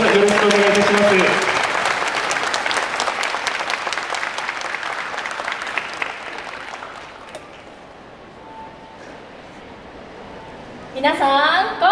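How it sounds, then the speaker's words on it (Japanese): Audience applause in a hall at a Chiba culture festival welcoming the Narashino High School brass band, a dense sustained wash of clapping that tapers off, with announcer talk at the start and a voice returning at the end. "今一度大きな拍手でスタートさせていただきたいと思います"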